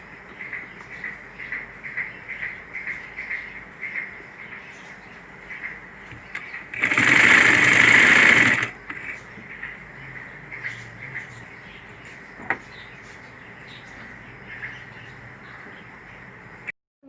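A sewing machine stitching a shirt's lining along the collar margin runs in one short, loud burst of about two seconds, with light ticking handling noises before and after.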